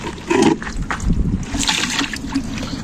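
Water sloshes and splashes from a bucket onto the ground outdoors, a short burst of splattering followed by trickling, fairly close and without talk.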